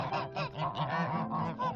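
Several geese honk close by in overlapping, repeated calls, a steady noisy chorus of nasal honks filling the whole stretch.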